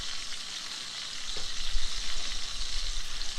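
Ribeye steak searing in a hot pan, held by a hook so every side browns; a constant frying hiss with a low rumble swelling midway, close and steady, no voices.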